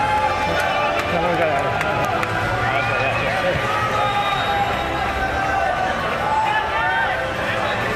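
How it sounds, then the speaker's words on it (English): Loud, steady applause and cheering from a large live audience at the Nintendo E3 2014 Super Smash Bros. Invitational, a dense continuous roar of clapping with crowd noise throughout. "Everyone, let's give another round of applause to Mr. Sakurai."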